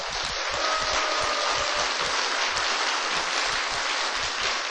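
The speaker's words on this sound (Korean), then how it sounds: "내 눈 감을 전에 박수 한번 해줘요" Large audience at a religious gathering claps in sustained, even applause, a dense hiss of many hands filling the space evenly from start to finish with no voices on top.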